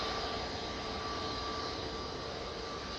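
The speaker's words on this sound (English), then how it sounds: "Got an EasyJet coming on." An EasyJet airliner at Manchester Airport drones as a steady, broadband roar at moderate distance, a continuous engine wash with no breaks and no voices.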